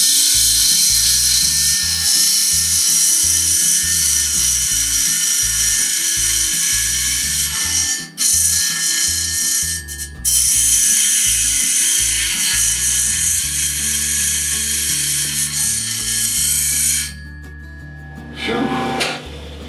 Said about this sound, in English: We're going to take a piece of copper pipe and we're going to grind that sucker into this CBN wheel